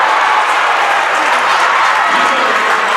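Spectators at a high school varsity boys' basketball regional final roar and cheer loudly and continuously after a flashy play, a dense wall of crowd noise with applause mixed in.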